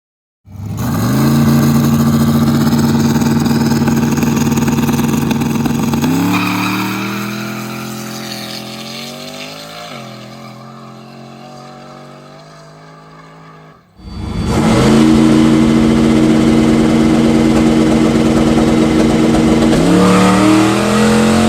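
A turbocharged street race car on a test pass roars loudly up close, its engine climbing through the gears with sharp drops at each shift, then surging hard again.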